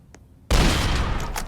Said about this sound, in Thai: ยิงทีเดียวตายนะครับ